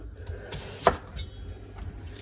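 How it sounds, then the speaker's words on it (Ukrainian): A single sharp knife chop through an onion on a board, a short crisp knock amid quiet kitchen background. "Цибульку нарізаємо на півкольця."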